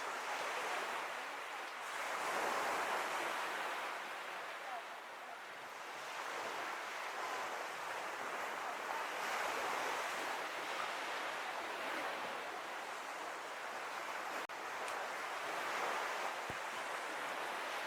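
Ocean waves breaking on a shore, a continuous broad wash of surf that swells and eases in slow surges, steady and fairly loud with wind-like hiss and no voices.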